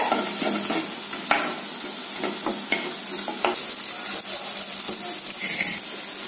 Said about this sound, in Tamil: வெங்காயம் வதங்கறதுக்கு கொஞ்சம் போல நைஸ் உப்பு சேர்த்துக்கோங்கப்பா ஒரு கிண்டு கிண்டி விட்டுக்குங்க